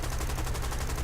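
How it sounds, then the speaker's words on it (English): Aircraft cannon fire in a flight combat video game, a rapid dense burst of loud, evenly spaced shots over a constant noisy roar. "I'm using my cannons some more."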